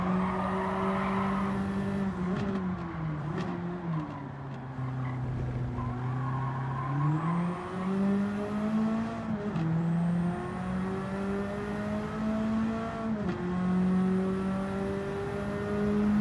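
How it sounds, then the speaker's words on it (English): Car engine in Gran Turismo 7 on PS5, a steady drone that rises and dips as the driver revs and shifts through the gears, with faint tire noise, continuous and close. "This car actually drives really nicely."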